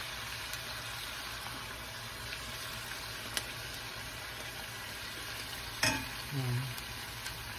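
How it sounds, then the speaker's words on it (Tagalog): Beef sizzling steadily in a pan while being sautéed with soy sauce for beef pares, a continuous close frying hiss with a couple of brief sharper crackles and stirring scrapes near the end. "Gigisa po natin siya"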